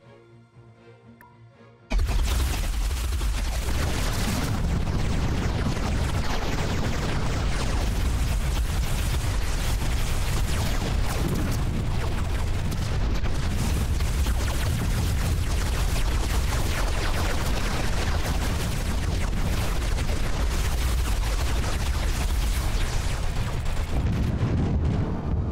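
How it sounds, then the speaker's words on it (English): Plasma torpedoes firing in a Master of Orion space battle, a dense, continuous roar of booming blasts and bursts that kicks in abruptly after a quiet start and stays loud to the end. "Oh, look at those plasma torpedoes."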